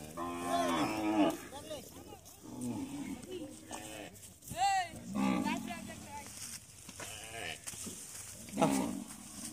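A herd of cattle on a Padma river char near the Bangladesh–India border moos repeatedly, several drawn-out calls from nearby and farther off, with people talking in between.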